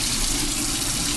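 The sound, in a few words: water running while rinsing out a bowl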